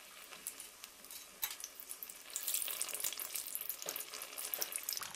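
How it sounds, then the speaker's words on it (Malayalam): Ripe banana fritters (pazham pori) frying in very hot oil, a soft, watery crackle that swells into a denser, busier sizzle as oil is spooned over the top, close up with no voices. "ഇനി പതിയെ അങ്ങ് കുറേശ്ശെ എണ്ണ അതിന് മുകളിലായിട്ട് ഒഴിച്ചു കൊടുക്കാം എന്നിട്ട് തിരിച്ചും മറിച്ചും രണ്ട് സൈഡും നന്നായിട്ട് കുക്ക് ചെയ്തെടുക്കാം"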